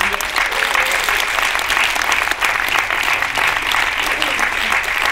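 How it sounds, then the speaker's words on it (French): Steady applause from a cinema audience at a Claude François tribute evening in Geneva fills the room, dense and continuous, with no pauses and only faint voices mixed in. "Là, vous pouvez vraiment l'applaudir"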